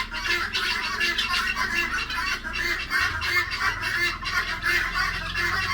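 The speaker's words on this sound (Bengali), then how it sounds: "একটা যখন ডাকে তখন সবাই একসাথে ডাকাডাকি করে ওই যে পাখিটা ডাকা শুরু করেছে" A flock of grey partridges (titir birds) raise a chorus of loud overlapping alarm calls, repeated squawking cries that stay dense and steady from start to finish.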